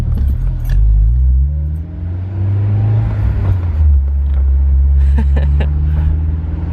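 A Honda S2000 makes a U-turn, its engine rumbling close and loud, easing off and building again as the car swings around, with light jangling near the end.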